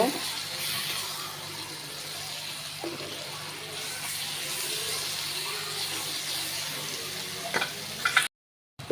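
Steady sizzling of mashed bottle-gourd peels frying in a pan, with occasional scraping and clinks from stirring, continuous and close, ending abruptly.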